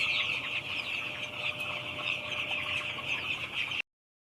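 Chickens cluck and murmur continuously on a large poultry farm, a busy flock heard close by with scattered sharper squawks, no voices.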